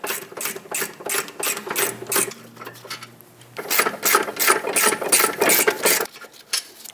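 Ratchet spinning out 17mm brake caliper bracket bolts on a 2014-2019 Toyota Highlander rear brake, rapid clicking bursts in quick rhythmic runs with a short pause midway, close and clear.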